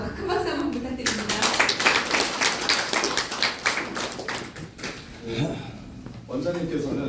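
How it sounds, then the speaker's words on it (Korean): Applause from the crowd at a Yongsan election candidate's campaign office opening, bursts of clapping and tapping that rise and fade, with someone talking over parts of it through a microphone. "큰 박수 한번 부탁드립니다."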